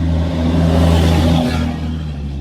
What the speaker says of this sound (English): Why is the truck that loud?